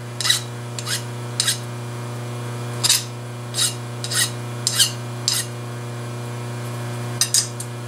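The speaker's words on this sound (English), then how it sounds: "A few more edges to deburr now. So go ahead and make sure all the burrs are off." Hand file deburring the edges of a machined metal part for a carriage stop clamp, heard as a series of short rasping strokes, spaced and irregular, fairly close over a steady low hum of shop machinery.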